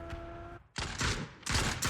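Bursts of gunfire ring out in a PUBG match on the Erangel map, two or three sharp, loud volleys separated by short gaps, after a steady tone at the start.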